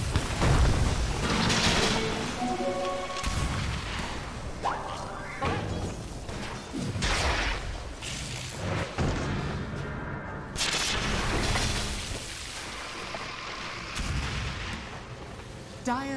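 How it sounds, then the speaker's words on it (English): Tower-under-attack combat in the video game Dota 2: dense, continuous clashing impacts, booms and mechanical crunches layered over busy battle noise, loud and sustained throughout. "Dire's top tower is under attack."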